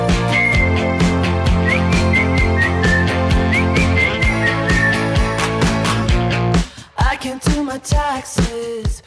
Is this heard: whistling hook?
yes